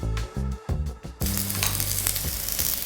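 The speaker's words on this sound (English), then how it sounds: "Don't you just love the sizzling sound of grilled meats?" Pork belly sizzles on a Korean barbecue grill, a loud, close, steady frying hiss, preceded by a few sharp clicks and tongs clatter as the meat is handled.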